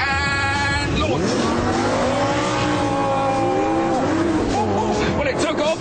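A Lamborghini Gallardo Superleggera revs hard on a launch start, engine pitch climbing through a sharp upshift with a loud, close roar as it pulls away.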